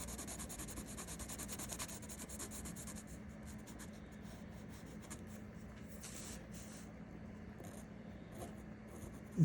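A pencil shades across paper during a helicopter sketch, making a soft, continuous scratchy rubbing that stays very quiet and close, with a small tap at the very end.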